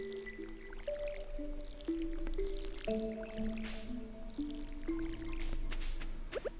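Watering crops with a watering can in Stardew Valley: a few soft, squishy drip splashes under a gentle, plucked game melody, the water sounds clustered in short bursts.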